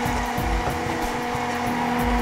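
A kitchen blender pureeing ingredients with added water for Indonesian ketoprak, giving a loud, steady, close motor whir that holds without a break.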